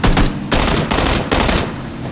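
Gunfire in PlayerUnknown's Battlegrounds, several loud close bursts of rapid shots in quick succession.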